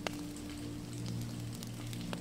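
Steady rain splattering onto a pond on a rainy night by a willow-lined cottage, a soft continuous patter with a low hum underneath and no voices.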